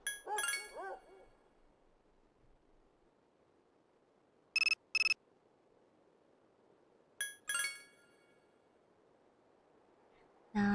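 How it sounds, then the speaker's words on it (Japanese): A phone rings repeatedly in a PS2 video game, with bright electronic ring bursts returning in separate clusters over quiet background play. "あ、電話たくさん来るんだよ。"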